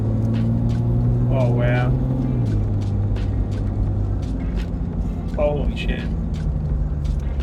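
Toyota LandCruiser 100 Series engine on a power tune accelerating hard, a loud steady rumble with engine tones stepping down as gears change, while a person exclaims excitedly over it.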